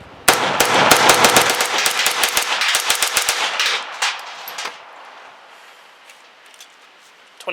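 Rapid, loud strings of shots from a PM-63 Rak pistol in 9x18, chattering for about four seconds before tapering off into scattered reports and quiet, with a voice briefly present.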